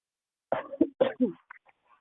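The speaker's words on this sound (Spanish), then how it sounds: "disculpen que esté un poquito tosiendo" A short burst of several rough coughs close up, four quick hacking bursts followed by a few faint throat sounds.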